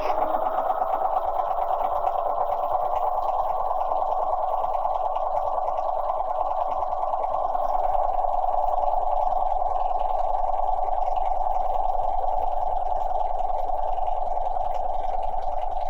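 A Bernina 300 series sewing machine runs steadily, stitching a continuous line of a decorative stitch with an even, high-pitched whirring hum that is close and loud and holds without pause.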